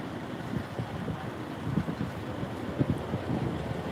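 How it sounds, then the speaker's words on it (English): Strong outdoor wind buffeting an open microphone at a street protest, a steady low rumble with irregular gusty thumps throughout and no speech. "I do fear that it is so windy that I should have the mic on."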